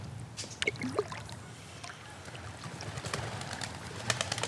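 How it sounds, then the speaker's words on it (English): Pigeons coo softly from close by on cold water, a low murmuring flock sound under steady water and boat noise, with occasional brief chirps and bumps. "A whole bunch of pigeons, wow."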